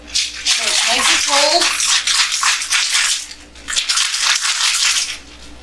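Ice rattles hard inside a cocktail shaker as a pumpkin spice martini with heavy cream is shaken, a loud continuous clatter with quick rhythmic pulses lasting several seconds before stopping.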